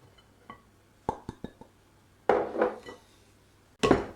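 Cake batter being mixed in a bowl, with a few sharp clinks of a utensil against the bowl followed by louder scraping and stirring strokes, close by and with no talk.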